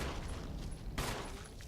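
Gunfire aimed at a zombie in the Resident Evil HD remake, a sharp broadband shot cracking out near the middle over a steady, busy game-ambience bed, with no talk.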